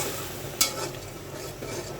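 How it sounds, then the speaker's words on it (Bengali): Spice paste being sautéed in a pan for a rohu fish head and ridge gourd curry, a soft steady sizzle with one sharp utensil clink against the pan. "তো যাচ্ছি মশলাটা ভালোভাবে কষাই নিচ্ছি।"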